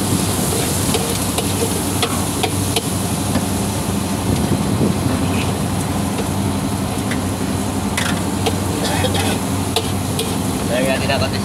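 Pork frying in a pan while cooking sinigang outdoors, a steady close sizzle under occasional stirring clatter and a constant low engine-like hum.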